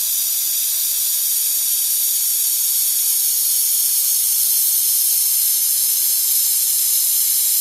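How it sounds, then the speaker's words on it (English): Air-powered caulking gun hooked to an air hose laying Thixo Flex sealant along bottom seams of a 1954 Penn Yan Captivator boat, a steady, close, unbroken pneumatic hiss throughout with no talking. "The first step involves loading the gun and attaching it to an air hose"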